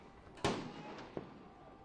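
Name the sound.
explosions at a protest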